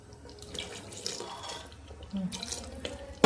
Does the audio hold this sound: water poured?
yes